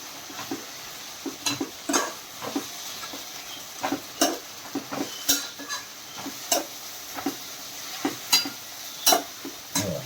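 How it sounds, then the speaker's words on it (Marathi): Taro leaf mixture for Konkan-style aluche fatfate sizzles in oil while being stirred, a low hiss under repeated sharp scraping strokes at an irregular rhythm. "थोडे तेलामध्ये फिरवून घेतलं ना बघा"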